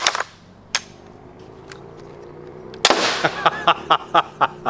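A self-resetting winch crossbow is shot, giving sharp loud snapping releases, a couple early then a run of rapid evenly spaced cracks and clacks in quick succession, close by.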